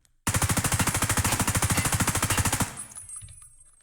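A sustained full-auto burst from an M4 rifle in Escape from Tarkov, rapid evenly spaced loud shots for over two seconds, then a ringing tail and fading echo.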